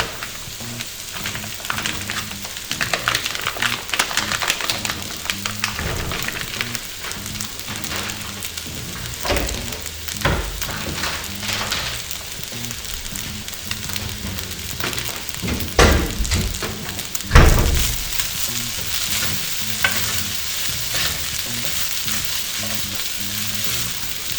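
Rice and vegetables fry in a hot pan for fried rice, with a continuous crackling sizzle and intermittent scraping stirs and clatters of the utensil, including a louder knock near the end.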